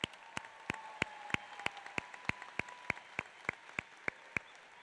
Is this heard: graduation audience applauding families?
yes